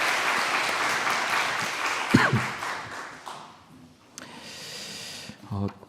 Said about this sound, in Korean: 우리 장학회 모든 팀원, 우리 모든 분들에게 좀 격려의 박수 해드릴까요?